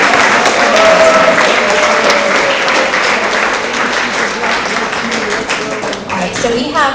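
Steady, loud applause fills a school award assembly hall for middle-school student leaders, many hands clapping continuously with some crowd voices mixed in, tapering slightly near the end.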